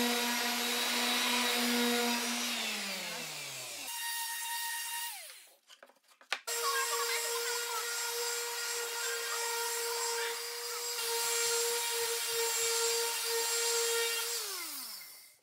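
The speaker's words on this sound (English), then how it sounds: "if we take the palm sander and just ease off a little bit of the wood on both sides of the shelf" A palm sander eases the edges of a wooden shelf, giving a close, loud, steady motor whine that runs down, starts up again after a brief clatter, holds for several seconds and then winds down once more.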